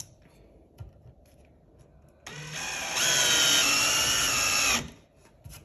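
A drill/driver drives a screw into wood in a single close burst: a whine that ramps up and holds for about two seconds, then stops.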